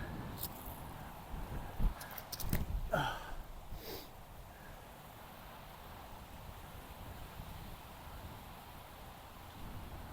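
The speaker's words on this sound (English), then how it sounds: "it is very, very windy" Steady wind roars and buffets the microphone throughout on a disc golf course, with a few brief louder gusts early on.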